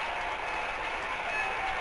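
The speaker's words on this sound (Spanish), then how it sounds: "Palmas por Huelva del nuevo colombino" A football crowd at the Nuevo Colombino stadium in Huelva claps in a dense, steady wash of applause, distant and continuous throughout.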